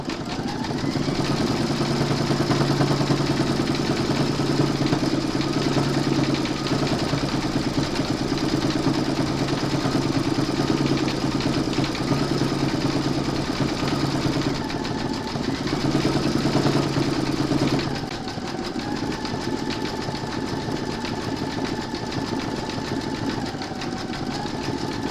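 An embroidery machine stitches black thread on a koala applique with a steady, dense mechanical hum and rapid needle chatter that holds for the whole stretch, shifting slightly in pitch near the end.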